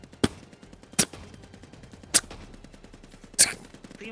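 Gunfire during a VRChat roleplay shootout, four sharp single shots spaced irregularly over a quiet background, fairly loud and close.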